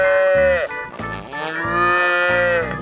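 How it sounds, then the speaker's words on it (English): A cow moos repeatedly in a 3D wild-animals video game, the calls loud and close, coming in several drawn-out, tonal bellows with short breaks between them. "Cow."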